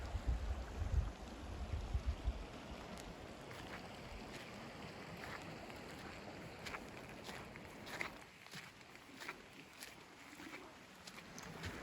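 A little creek flowing beside a backcountry campsite on the High Sierra Trail, a soft continuous rush of water heard faintly at a distance, steady throughout with a few brief knocks and a handful of low thumps early on.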